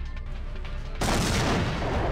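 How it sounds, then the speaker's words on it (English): A sudden explosion goes off right beside the player in the System Shock 2 video game. A quiet ambient drone gives way to a loud, sustained roaring blast. "That's an explosion right next to me!"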